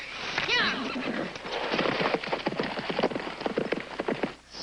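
A horse clip-clops along at a steady walk with a brief neigh near the start, mid-distance, under light outdoor ambience and some quiet talk.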